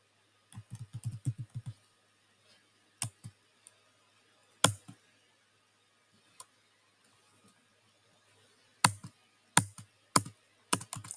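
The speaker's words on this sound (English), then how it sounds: "Let me type it." Computer keyboard typing in short bursts of quick clicks separated by pauses, close and fairly crisp in an otherwise quiet room.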